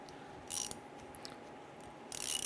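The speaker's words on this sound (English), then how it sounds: "Use a 10mm socket. We're going to go ahead and loosen that." A 10mm socket on a ratchet loosens a brake bleeder screw on a 2002-2008 Dodge Ram 1500, giving two short bursts of clicking pawl, faint and close, over a steady hum.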